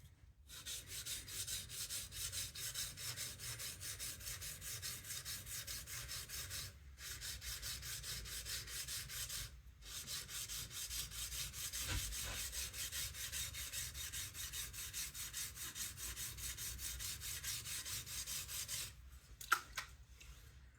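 Sword blade ground against a coarse sharpening stone, a continuous close abrasive rasp of repeated strokes, broken by a few short pauses and a small knock near the end.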